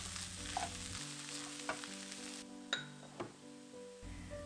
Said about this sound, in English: I added my shredded potatoes and going to stir and saute for a couple of more minutes